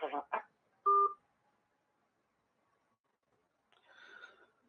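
A phone dialing another person's number: a short burst of keypad tones, then quiet before a faint ringback tone near the end, with brief voice sounds at the start.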